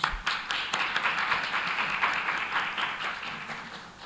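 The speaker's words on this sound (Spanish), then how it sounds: "voy a pedir, por favor, una cordial bienvenida con un aplauso" A modest group applauds in welcome of a guest at a panel discussion, a soft, steady run of clapping with distinct individual claps that gradually thins out.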